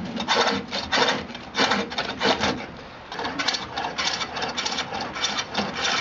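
A gouge scrapes and rasps against the inside curve of a wooden bowl on a lathe, in steady rhythmic bursts, close and moderately loud with no talking.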